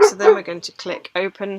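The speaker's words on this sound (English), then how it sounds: "Sorry, that is the dog." A dog barks in short yips and bow-wows close by, mixed in with a person talking steadily over it.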